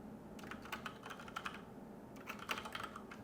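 Quick bursts of typing on a computer keyboard while entering a header into a spreadsheet, soft close key clicks in two short runs with a brief pause between, quiet and alone.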